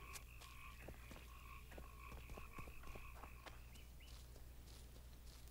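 Frogs croak in a repeating, rhythmic chorus within the Kayran Lair area of The Witcher 2 game, steady ambient calls layered over a low constant background drone, with no voices.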